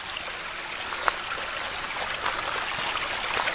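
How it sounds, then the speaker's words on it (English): Steady broadband rushing of a rain-fed stream running down a hiking trail, a continuous close flow with a brief faint splash partway through, no voices. "Got a stream running down the trail."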